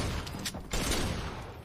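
Gunfire in the Fortnite video game, a short burst of rapid shots cracking in quick succession over a noisy background, with no voices heard.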